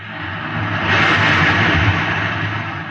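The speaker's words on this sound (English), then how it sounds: "You can hear the roaring of the gases in the test chamber behind me." Steady, loud roar of a rocket reactor engine's gases in a test chamber at a rocket base, broadband and sustained for the whole stretch, swelling slightly in the middle, part of a 1950s science-fiction radio drama.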